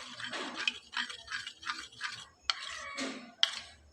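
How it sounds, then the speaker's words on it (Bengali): Batter for a potato snack is stirred in a bowl with a spoon, giving soft wet scraping strokes in bursts with a few sharp clinks against the bowl, close and moderately quiet with no talking. "তারপর আমার এখানে যে গোলাটা দেখুন আমি গুলে নিয়েছিলাম, তো সেটা আরও একটু ভালো করে নেড়ে নিতে হবে।"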